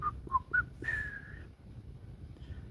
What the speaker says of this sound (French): Siffler en travaillant.